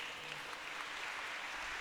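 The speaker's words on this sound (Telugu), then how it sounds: "చప్పట్లు కొడదాం." Applause at a Christian book release event, steady clapping from a gathered audience sustained without pause, moderately distant and even in level.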